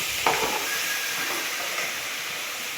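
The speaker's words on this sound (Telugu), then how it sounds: "సాల్ట్ వేసుకొని కొంచెం ఫ్రై చేసుకొని" Fish frying with salt in a pan for a tangy fish curry gives a steady, moderate sizzle and hiss throughout, with one brief scrape near the start.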